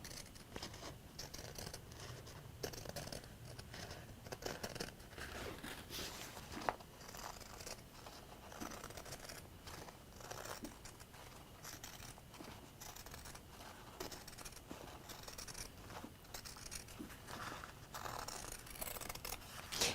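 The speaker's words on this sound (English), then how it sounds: "Pinking shears are really useful." Pinking shears cutting through a fabric seam allowance, a steady run of close, crisp crunching snips repeating one after another.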